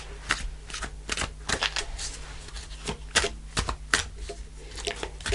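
Message from Heaven oracle cards being shuffled close up, a rapid series of crisp papery riffles and taps in uneven bursts, fairly quiet and with no talking.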